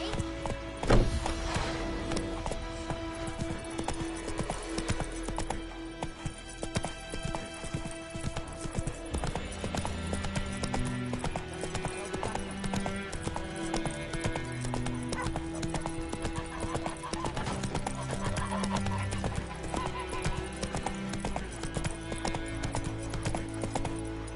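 Hooves clip-clop steadily as a horse runs in The Witcher 3: Wild Hunt, a continuous rhythmic beat under game music and ambience, with a brief louder thump near the start.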